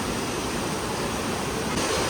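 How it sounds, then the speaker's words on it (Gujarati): Water pours steadily over the rim of an old temple tank and runs off, a continuous broad rushing wash heard close and alone. "ઉપર ઉપર પાણી જાય છે આ કુંડમાંથી જોવો."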